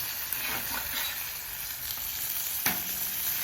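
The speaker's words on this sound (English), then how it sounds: "this is the first time doing pork chops on the flat top" Pork chops fry in butter on a Camp Chef flat top griddle, giving a steady, close hiss of sizzling fat with a few faint pops and scrapes and no talking.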